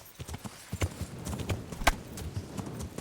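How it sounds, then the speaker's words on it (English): Horse hooves clip-clopping on the ground in the video game Kingdom Come: Deliverance, a quick irregular run of close, fairly soft knocks that continues for several seconds with no talking. "Go, horsey."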